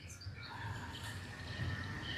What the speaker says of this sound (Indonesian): Jangkrik kodok tuh.